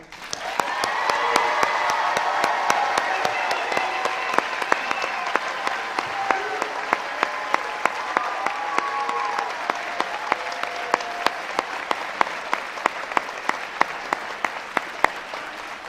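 Sustained applause from a large crowd at a university commencement ceremony, steady dense clapping that continues for the whole stretch at a moderate distance.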